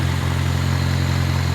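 A car engine running on peanut oil idles steadily, a close, even low hum with a faint mechanical buzz over about a second and a half, alone with no talk.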